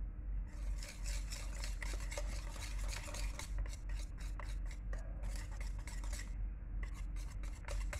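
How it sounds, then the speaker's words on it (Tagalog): A spoon stirs sugar and cooking oil together in a bowl for banana bread, giving a continuous scraping, rubbing swish with regular strokes, close by and with no talking. "Haluin ng haluin hanggang matunaw maigi yung asukal."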